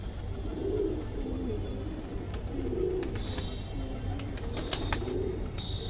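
Madrasi pigeons in a loft coo softly and repeatedly in a low, rolling rhythm, close by, with faint light ticks and rustles in the background.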